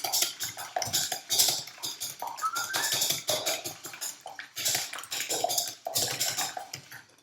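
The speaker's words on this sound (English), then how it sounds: "So, 3 eggs. Little whisk." A small whisk beats three eggs in a bowl, giving rapid, close metallic clicking and scraping against the sides in busy irregular bursts throughout.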